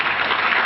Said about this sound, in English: let's applaud her